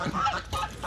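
A single goose honks twice in quick succession, close and fairly clear, with nothing else around it.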